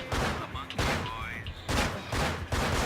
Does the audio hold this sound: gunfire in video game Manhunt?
yes